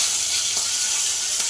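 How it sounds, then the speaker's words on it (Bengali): Aar fish frying crisp in mustard oil, a steady close hissing sizzle with a couple of faint pops, alone without talk. "একটু কড়কড়া করেই ভাজবো"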